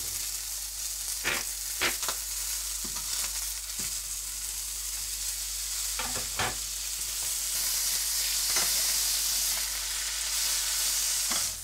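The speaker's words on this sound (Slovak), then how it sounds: "Steak pečieš na panvici s bylinkami a cesnakom, z každej strany asi po 3 minúty." Beef steak with herbs and garlic sizzling steadily in a hot pan, a loud continuous frying hiss broken by occasional sharp spits and pops, with no voices.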